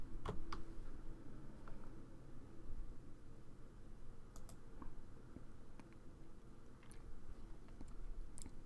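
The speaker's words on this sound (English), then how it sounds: "Someone's typing." Someone types on a computer keyboard during a break in an esports broadcast, making faint, sparse key clicks in quick, irregular bursts over a quiet background hiss.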